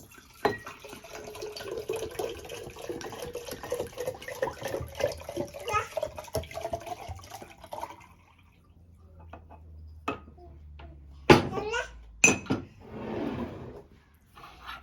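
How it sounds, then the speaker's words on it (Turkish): Water pours into a jar for about eight seconds, a steady splashing stream whose pitch climbs as the jar fills, followed by a few clinks and handling sounds. "İlk önce suyumuzu kavanozun içine dökelim."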